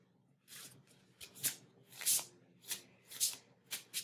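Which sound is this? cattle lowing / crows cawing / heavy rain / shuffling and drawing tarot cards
shuffling and drawing tarot cards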